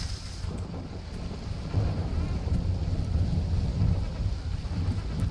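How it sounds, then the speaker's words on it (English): A thunderstorm rumbles in The Riftbreaker, steady low thunder mixed with rain and wind, moderately loud and continuous with no talking. "The storm is getting really intense."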